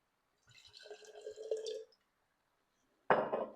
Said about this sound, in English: we're going to add wine to the jar